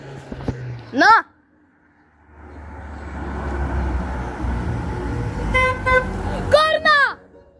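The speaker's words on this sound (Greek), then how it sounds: "Κόρνα!" A car horn honks on a road: one short toot early on, then two more blasts close together near the end over steady engine and traffic rumble, with people talking at the start.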